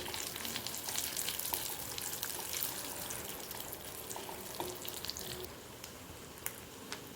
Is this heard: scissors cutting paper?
no